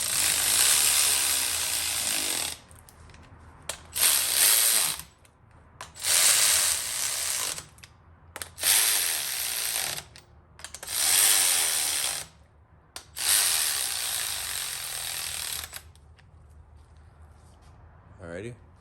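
A hand ratchet snugs down the head bolts on an engine block being built into a long block for a Hawkeye wagon, sounding in several loud bursts of rapid clicking separated by short quiet pauses.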